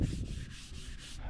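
Steady, gritty scraping of sandpaper rubbing back and forth over a 1969 International Harvester tractor being prepared for paint, in quick, even strokes, with no voices.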